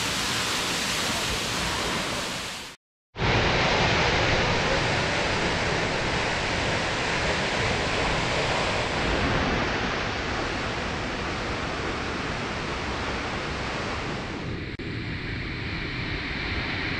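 Jonha Falls waterfall roars loud and steady at close range, a dense continuous rush of falling water that breaks off briefly near the start and then carries on unbroken.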